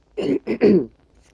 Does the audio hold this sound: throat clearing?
yes